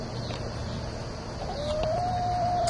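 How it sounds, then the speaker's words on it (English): A lemon cuckoo Orpington rooster in a backyard gives a short, faint cluck and the start of a crow over low background noise. "My lemon cuckoo Orpington rooster."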